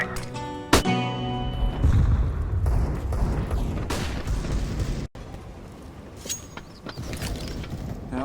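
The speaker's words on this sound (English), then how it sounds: "Throwing flashbang." A Counter-Strike: Global Offensive flashbang grenade bursts with a sharp, loud bang, followed by a ringing, hissing wash that fades unevenly, then a brief dropout and quieter game noise.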